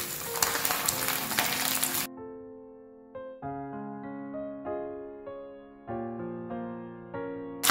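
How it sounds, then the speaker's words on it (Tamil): Anchovies (nethili) fry in oil in a dense, hissing sizzle for about two seconds, then give way to melodic music playing alone. "ஒரு பக்கம் நல்லா ஃப்ரையும் ஆகியிருக்கு"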